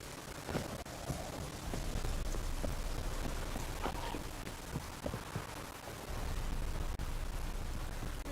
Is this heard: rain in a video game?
yes